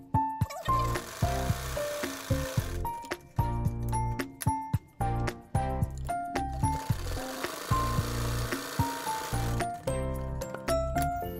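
A sewing machine stitches a layered Ankara fabric face mask at a quarter-inch seam allowance, running in loud, fast mechanical bursts with brief pauses between runs and no talking.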